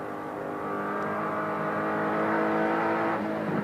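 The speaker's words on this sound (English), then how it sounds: "Superb Chevy V8 working hard up in front of him." A Chevy V8 race car engine labours hard across the top of the mountain at the 1993 Bathurst 1000, a loud steady droning roar heard from an in-car camera that builds gradually.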